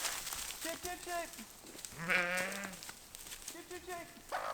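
Sheep in a forest pasture bleat close by: a few shorter calls come first, then one loud, wavering bleat in the middle, and a brief cry at the end.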